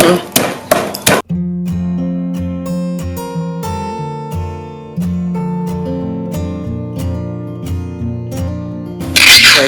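A pestle thuds into a mortar in steady repeated strikes, pounding chili, garlic and shallots, sharp at the start and then lighter and regular over a bed of background music.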